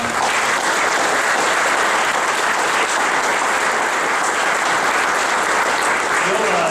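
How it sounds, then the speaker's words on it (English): A crowd gives a sustained round of applause for the coordinator of a Packers mentor-protégé program at a participant recognition event. The clapping is loud, dense and unbroken, and a voice speaks faintly beneath it. "So how about a round of applause?"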